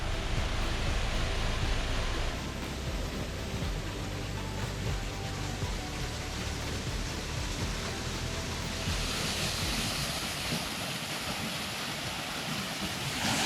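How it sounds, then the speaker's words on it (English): Roadside waterfalls pour down along a mountain road, a broad steady rushing roar of falling water heard from close by, with gusty wind buffeting the microphone and no one talking. "all the way along this road there are these magnificent waterfalls."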